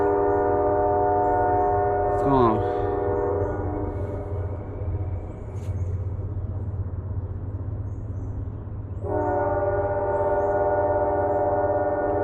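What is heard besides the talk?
train passing by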